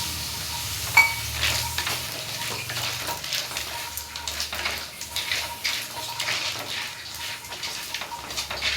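Masala and water being stirred in a pan for a rural-style mutton sukka, a steady wet sizzle with scraping and sloshing stirs throughout, fairly close, no voices.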